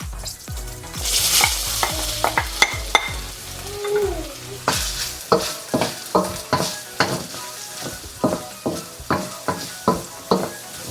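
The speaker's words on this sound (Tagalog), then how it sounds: "Kapag na-sear nyo na lahat ng beef, mag-isa na kayo ng onion and garlic." Onion and garlic sautéing in a pan after beef has been seared for mechado, a steady close sizzle broken by regular scraping stirs of a utensil against the pan.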